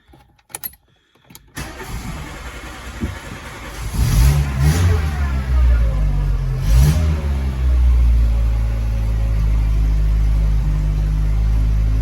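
1988 VW Polo MK2 engine fitted with new ignition parts, a few faint clicks and brief cranking followed by the engine catching with a loud rev, then settling into a steady close idle.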